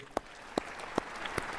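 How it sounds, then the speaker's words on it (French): Applause from an audience at an ordinary African Union summit, with a few sharp, distinct claps spaced about every 0.4 seconds standing out over a soft wash of crowd noise. No one speaks. "Je vous prie de l'applaudir"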